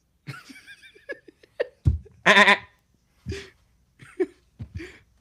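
A baby goat bleats in short, wavering cries among scattered bursts of laughter and brief voices, the calls coming in irregular bursts at close range.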